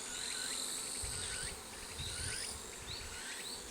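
Honey bees buzz around an open summer hive during a checkup, a soft continuous drone with a few bees whining past nearby, faint and with no talking.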